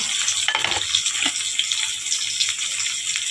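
Onion goes into a hot pan with cumin and mustard seeds, giving a steady, fairly loud hiss and crackle with small popping spatters throughout, close to the ear and without talk.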